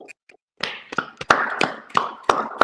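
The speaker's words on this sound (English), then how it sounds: "Clap it up." A few people clapping their hands at a street gathering, sharp, close claps in a loose, uneven rhythm after a brief quiet start, each clap ringing slightly.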